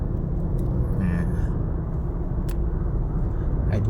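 Car driving up a mountain road toward Doi Mae Salong in Chiang Rai, with a steady engine and road rumble throughout and someone talking over it.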